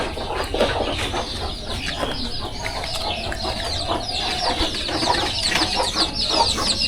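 Chickens kept in a protective pen in a village cluck and chatter continuously nearby, several birds overlapping with occasional louder squawks and faint wing flaps.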